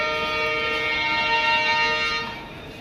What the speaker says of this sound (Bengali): হর্ন দিয়েছে, ট্রেনটি এখন স্টেশন থেকে ছেড়ে যাচ্ছে